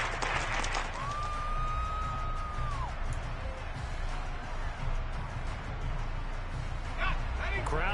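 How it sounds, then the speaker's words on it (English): A football stadium crowd roars and applauds in a sustained, loud wash of cheering, with a long whistle-like tone early on and a commentator talking over it. "Crowd getting in it a bit already."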